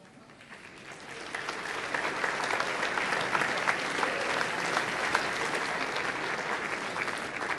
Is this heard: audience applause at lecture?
yes